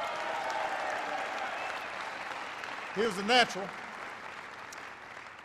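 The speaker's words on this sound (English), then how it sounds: "Give him a big round of applause." A crowd applauds steadily through a speech event in Cleveland, a broad, even wash of clapping heard at a distance, while someone briefly speaks over it partway through.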